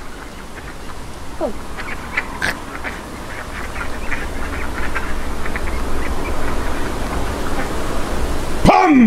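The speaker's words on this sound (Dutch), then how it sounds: "Oh, die eenden ineens." Ducks quack intermittently against steady background noise, a few short calls scattered across the scene, with a brief spoken word near the end.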